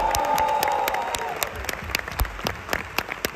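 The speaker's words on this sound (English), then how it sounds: "let's just give a big round of applause." An audience applauds a composer and his team at an event, with distinct individual claps growing sharper and more spaced as a sustained musical tone fades out early on.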